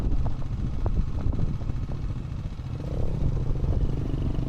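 Motorcycles come along a rough mountain road in the Kalash Valley of Pakistan, a steady close engine drone with clattering and rising revs that stays loud throughout, no talking.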